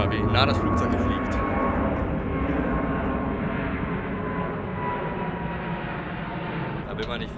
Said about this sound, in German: schaut mal, wie nah das Flugzeug hier fliegt.